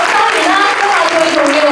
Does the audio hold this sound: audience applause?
yes